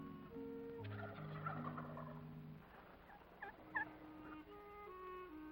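Wild turkey gobbler gobbling to attract hens, a few loud rattling gobbles over a constant hum of other wildlife calls and faint background tones.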